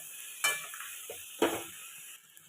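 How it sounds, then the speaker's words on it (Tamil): Garlic and tomatoes for tomato chutney are stirred in a pan, with two distinct scraping strokes over a faint, steady sizzle. "இதெல்லாம் சேர்த்து நம்ம நல்லா வதக்கி விட்டுக்கலாம்."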